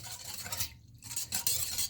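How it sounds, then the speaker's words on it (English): A spoon stirs yeast into water in a bowl for pizza dough, a close, steady scraping swirl that pauses briefly midway before resuming. "And now we mix this for a few minutes until everything's dissolved"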